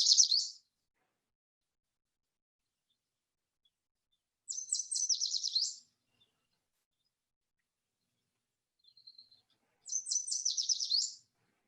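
A yellow warbler sings three bright, rapid, high-pitched phrases several seconds apart behind a house in mid-May, with a faint short call between the last two and quiet in between.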